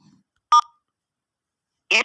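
Two short, sharp telephone keypad tones sound about a second and a half apart, each alone against silence.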